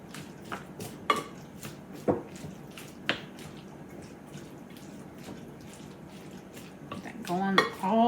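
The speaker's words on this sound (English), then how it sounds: "we're going to mix up this now" A spoon works through ingredients in a bowl that is slightly too small. Several sharp knocks against the sides fall at roughly one-second intervals, followed by quieter stirring and a louder scrape at the end.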